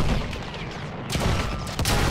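Heavy flak gun fire in a combat video game, with loud, dense bursts and booms running throughout and sharp reports standing out near the end.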